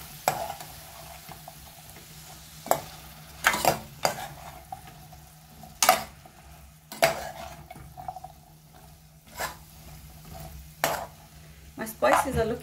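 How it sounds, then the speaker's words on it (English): Cauliflower florets are stirred and coated in spices in a pan, with a steady low sizzle broken by sharp, irregular clinks and scrapes of a spoon against the metal. "Now coat the cauliflower in the spices."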